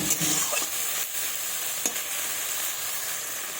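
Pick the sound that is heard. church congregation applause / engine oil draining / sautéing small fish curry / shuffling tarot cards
sautéing small fish curry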